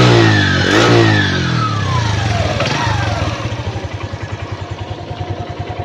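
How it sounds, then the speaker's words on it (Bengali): A 2022 TVS Metro 100cc motorcycle engine is revved with the throttle, rising in a loud close roar, then falling back and settling into a steady rhythmic idle, no talking. "এবারে অ্যাক্সিলেটার দিয়ে সাউন্ড শুনি।"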